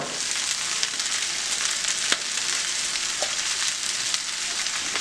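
Soy sauce sizzling in a hot pan while chicken fried rice is being fried, a loud, steady hiss with occasional sharp pops and clicks from stirring.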